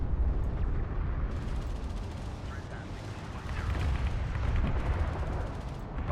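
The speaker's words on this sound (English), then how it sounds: "Enemy railgun firing on friendlies" Enemy railgun fire in the Homeworld: Deserts of Kharak real-time strategy game, a dense, continuous barrage of booming shots and rumbling impacts filling the whole stretch at steady loudness, with radio-style voices speaking over it.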